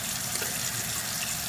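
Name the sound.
hot water running from a tap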